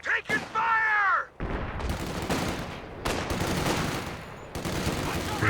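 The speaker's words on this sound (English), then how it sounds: "Taking fire!" Bursts of gunfire in the strategy game Company of Heroes 2, ragged volleys and crackling shots following a short shouted voice line at the start.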